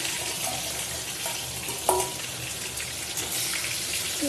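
Rohu fish pieces fry in a pan with a loud, dense, steady sizzle and a brief clatter near the middle.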